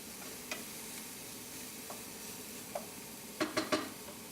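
Onions fry gently in garlic oil in a pan, giving a faint, low sizzle that stays quiet until a quick cluster of three stirring scrapes near the end.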